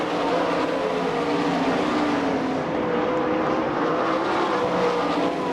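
Sprint race cars on a dirt oval at the All Star Circuit of Champions in Franklin, Pennsylvania, roar past together in a loud, sustained engine howl with shifting pitch as the pack runs through the turns.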